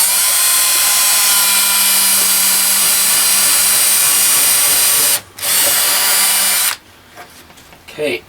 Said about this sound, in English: after the pilot holes were drilled